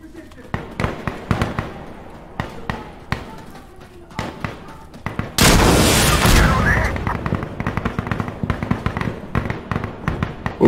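Sniper rifle gunfire in a video game night mission. Sharp shots and impacts crack out repeatedly, with one long loud burst of blast noise partway through. Someone talks over the action.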